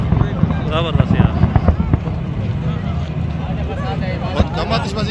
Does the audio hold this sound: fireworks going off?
yes